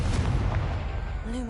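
Confringo fire spell blast in Hogwarts Legacy, a short, heavy, booming burst that rumbles and fades within about a second and a half.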